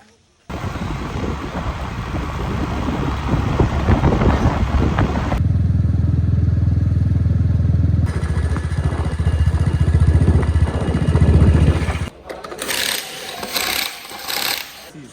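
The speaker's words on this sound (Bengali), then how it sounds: "দাদু টোটো চালাবে" An electric rickshaw (toto) rolls along with a rumbling, rattling drive noise and gusty wind buffeting the microphone, the tone shifting in sections and ending in a few clattering bursts.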